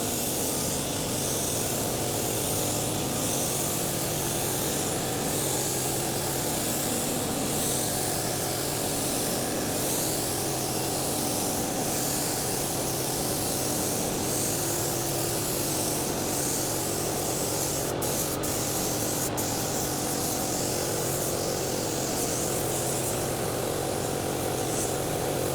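A spray gun lays pearl and candy paint onto a rat rod, giving a steady, close, continuous hiss that runs unbroken for the whole stretch with no voices over it.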